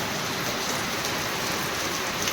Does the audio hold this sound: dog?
no